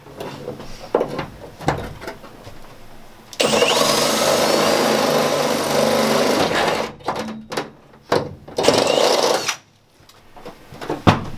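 A power tool sets a rivet nut into the frame of a Sprinter 170 van, giving a loud continuous motor whir for about three seconds, followed by shorter bursts and clicks nearby.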